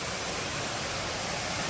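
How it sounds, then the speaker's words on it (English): Waterfall on the Foothills Trail, a steady, dense broadband roar of falling water, close and continuous with no voices. "I could hear this waterfall"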